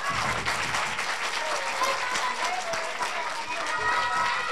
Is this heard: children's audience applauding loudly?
yes